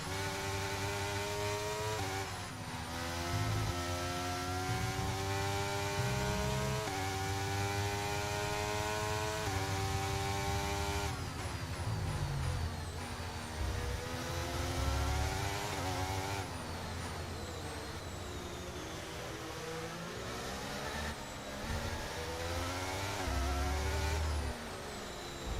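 Formula 1 racing car engines in the F1 23 video game, a continuous layered drone of several high-revving engines with pitch sweeps as cars shift and pass, loud and steady throughout with no speech.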